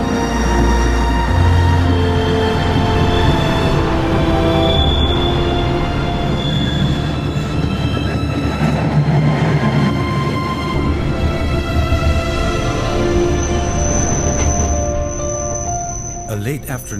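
Glacier Express train rolling through the Swiss landscape, with a continuous loud rumble of wheels on track and a sustained hum from the carriages, plus a brief high wheel squeal near the end.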